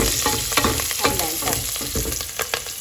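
Curry leaves crackle and spit in hot oil for a chicken curry while a spoon scrapes and stirs the pan. The sound is a loud, close sizzle broken by repeated stirring knocks, with no talk.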